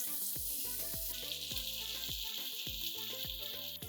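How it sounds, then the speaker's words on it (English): Salted potatoes fry in cooking oil with a steady, bright sizzle throughout, punctuated by a regular series of soft utensil knocks and scrapes as they are turned; no voices. "Fry the potatoes till they are semi-cooked."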